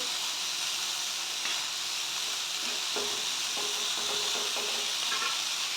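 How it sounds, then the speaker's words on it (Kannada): Onion flower curry (palya) fries in a pan with a constant loud hissing sizzle, broken by occasional light knocks of a stirring spoon, heard close with no talking. "ಇದನ್ನ ನೀಟಾಗಿ ಫ್ರೈ ಮಾಡ್ಕೋಬೇಕು"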